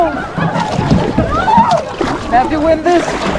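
Canoe paddles dip and splash in lake water during a group retreat, short sloshing strokes coming close together, with people talking and calling out over the splashing.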